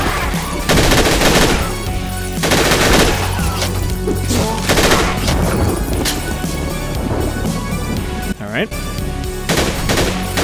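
Loud, repeated shotgun blasts and bursts of gunfire boom in the video game Ashes 2063, coming in heavy clusters with brief gaps between them while someone speaks briefly.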